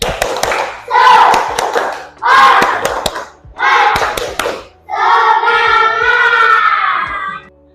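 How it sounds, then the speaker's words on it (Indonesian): An Indonesian school class performs the tepuk semangat chant, with four bursts of loud rhythmic group clapping mixed with children's shouts, then a final sustained shout of many young voices in unison. "kita tepuk semangat dulu. Tepuk semangat!"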